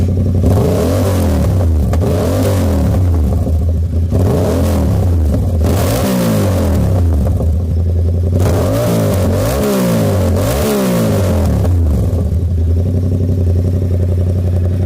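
A 2022 Yamaha R7 motorcycle engine revs hard and loud throughout, climbing and falling in repeated throttle blips with a deep, steady exhaust rumble up close.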